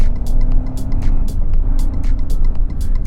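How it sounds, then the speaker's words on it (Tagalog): A 2023 Peugeot 2008's three-cylinder combustion engine drones steadily from inside the cabin while driving, a loud low hum with faint ticking on top and no talk. "that engine sounds really good actually for a 3-cylinder"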